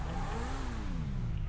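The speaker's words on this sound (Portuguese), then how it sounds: "O barulhinho do motor tá legal." Engine of a 2014 Volkswagen Passat in GTA 5 revving steadily, a continuous mid-pitched drone with a slowly rising and falling tone, close and moderately loud throughout.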